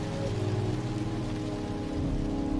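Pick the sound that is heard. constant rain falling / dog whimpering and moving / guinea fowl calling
constant rain falling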